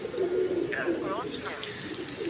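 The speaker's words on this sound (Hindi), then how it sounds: "कबूतर इधर बैठ रहा था" A pigeon coos close by in a short, soft, throaty rolling call, with a faint voice murmuring in the background.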